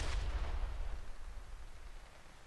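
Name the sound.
armor-piercing EMP high explosive shell fired, From the Depths video game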